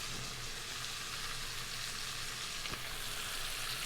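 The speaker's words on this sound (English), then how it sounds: "I removed my meat so I can get my vegetables sauteed and the good juices from all that sausage" Vegetables sautéing in sausage drippings for Cajun dirty rice, a steady, dense sizzle that hisses continuously and evenly, close up with no talking.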